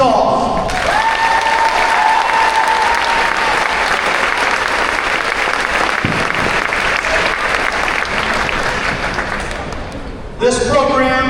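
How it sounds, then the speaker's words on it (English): Loud, sustained applause from a crowd in a school gym at a fall meet-the-teams night honoring the girls golf team, continuous clapping that fades slightly before an announcer's voice returns. "Let's have a round of applause for Oxford Girls Golf"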